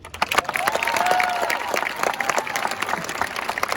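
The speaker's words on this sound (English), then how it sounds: "Can we get one more round of applause for our principal, Mr. Jacob?" A graduation-ceremony crowd gives a round of applause for the school principal, dense clapping mixed with scattered cheers and voices, swelling early and then holding steady for the few seconds.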